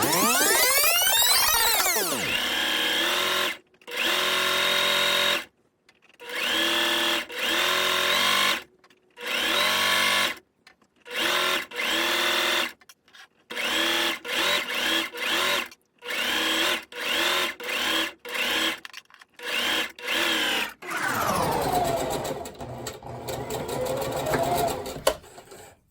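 A sewing machine stitching Valentine decor, loud and close, running in repeated bursts of steady mechanical whirring with short pauses between, rising and falling in speed at start and end.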